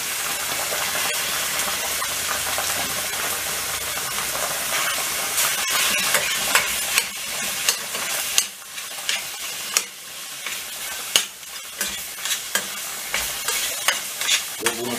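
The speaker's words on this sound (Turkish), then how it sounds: "Hemen arkasına yüksek ateşte gelen tavamıza 200 gram kadar kıymamızı atıyoruz." About 200 grams of ground beef fries in a pan over high heat for pasta sauce, giving a steady loud sizzle. Repeated scraping stir strokes come through clearly, growing more distinct in the second half.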